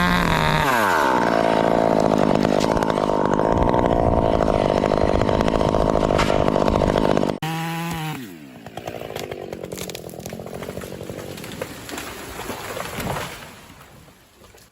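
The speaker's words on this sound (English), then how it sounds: "only the roar of the chainsaw breaks the silence" A chainsaw cuts branches high in a tree, its engine roaring at full throttle for several seconds, then dropping to a rougher, lower churn as the cut finishes, loud and near with no voices.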